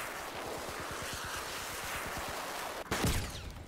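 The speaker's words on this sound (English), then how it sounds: "And the machine gunner's poking at him too" A machine gun fires in a vehicle combat video game, a long rapid even burst of shots that ends in a louder blast.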